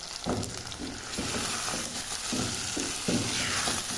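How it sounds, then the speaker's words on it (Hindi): Boiled potatoes fry in hot oil in a pan for aloo palak, a continuous close sizzle broken by several scraping stirs of a spatula. "साथ ही मैं आलू डालूँगी ताकि ये फ्राई हो जाए।"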